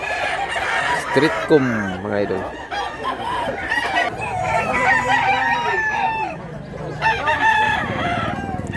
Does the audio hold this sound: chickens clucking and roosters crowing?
yes